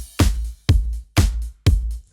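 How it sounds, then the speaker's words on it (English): Four evenly spaced drum hits run through an SSL drum strip plugin on the drum bus, each a punchy, full strike with a bright crack and heavy low end, decaying quickly before the next. "oh yeah, and this is all coming from the SSL drum strip."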